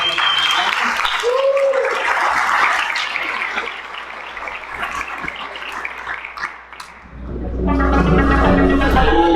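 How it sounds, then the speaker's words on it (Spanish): Conference audience applauding to welcome a keynote speaker at an agile software event, a broad wash of clapping that swells and then fades, giving way to music and speech. "por favor recibamos a Martín con un aplauso"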